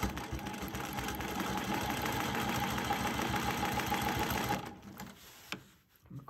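A sewing machine stitching a quilt block in short back-and-forth securing stitches, a steady rapid mechanical whirring chatter close up that runs continuously and then stops abruptly near the end, with no voices.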